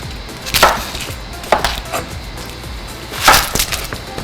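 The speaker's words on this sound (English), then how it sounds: "Usually what I do, I like my onions rough chopped." Knife chopping a whole onion roughly on a board, a few sharp, scattered chops spaced irregularly apart, close and fairly loud.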